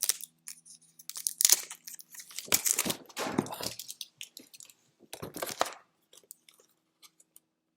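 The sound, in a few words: tape being peeled off a comic art package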